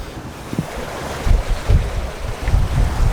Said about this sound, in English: Wind's a little bit blustery, we've got a few whitecaps around.